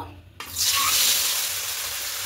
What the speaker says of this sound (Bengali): এদিকে কড়াইতে সাদা তেল দিয়েছি, দেখুন তেলটা গরম হয়ে গেছে। এখানে পনিরগুলোকে ভেজে নেব।